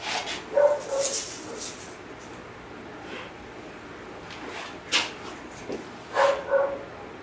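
A dog barks a few times in the distance against a quiet background, with short yips spaced apart.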